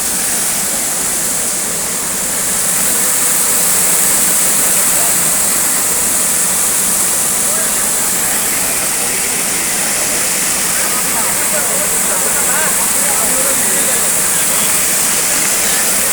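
Fast-flowing water rushes loudly and steadily in a dense, unbroken roar that fills the whole stretch, with voices faintly beneath it.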